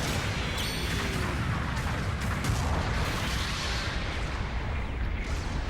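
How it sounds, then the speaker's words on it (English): Explosions and heavy weapon fire in the mecha combat game Gundam Battle Operation 2, piloting a Gelgoog Ground Type, a dense continuous roar of booms and blasts filling the whole stretch at steady loudness. "That explosion got me."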